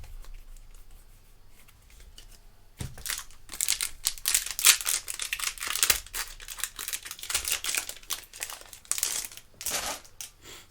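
Foil trading card pack wrapper being torn open and crinkled during a case break, a run of close crackling, tearing rustles that starts abruptly and continues in dense bursts.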